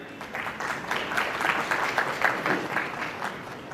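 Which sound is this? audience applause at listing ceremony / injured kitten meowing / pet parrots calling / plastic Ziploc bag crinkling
audience applause at listing ceremony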